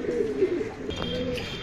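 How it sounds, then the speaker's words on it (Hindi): Madrasi breeder pigeons coo softly and continuously, a low, murmuring call close by, with a faint higher chirp near the end. "कबूतर देखिए ब्रीडर कबूतर है माशाल्लाह"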